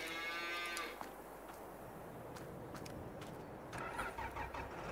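Brown Swiss and Holstein cattle moo on a farm in Farming Simulator 22, with several loud drawn-out calls over a steady engine-like drone in the background.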